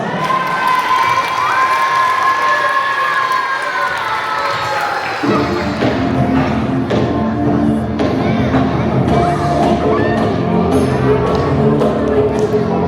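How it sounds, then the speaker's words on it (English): A crowd cheers and shouts after a Tibetan Losar dance performance at a school, with a steady wash of clapping and whoops rising after a few seconds, loud and continuous throughout. "Give them a big round of applause"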